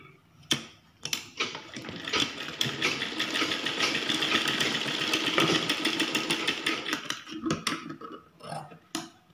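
A sewing machine stitches a strip of blouse cloth, running in a loud, continuous mechanical whir for several seconds, framed by short starts, clicks and handling knocks at either end.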